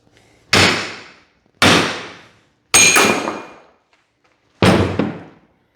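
Four separate loud, sharp metallic bangs ring out close by, each fading quickly, as a steel plate joined with a flux core weld from a Century 90 amp FC90 welder is bent in a vise until the weld breaks.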